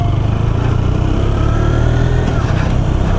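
A new KTM 125 Duke motorcycle engine runs under load during its break-in ride, a loud, steady buzzing drone with a slight rise in pitch near the end.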